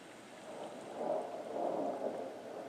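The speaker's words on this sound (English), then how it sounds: "Here's your thunderstorm. Let's hear that." A soft, steady wash of rain with low rumbles of thunder swelling and fading in the background from a meditation app, fairly quiet and without voices.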